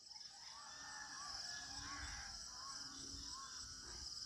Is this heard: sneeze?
no